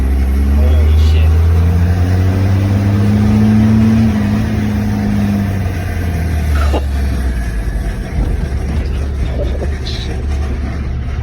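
Cummins diesel engine revving hard with a blocked, blown turbo, a loud continuous low roar that rises and falls near the listener, with voices talking over it.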